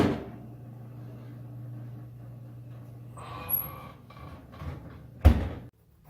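Oven door swinging open and shutting while a lemon pie goes in to bake, a soft creak and rustle followed by one sharp close thud, near and clear with no talking.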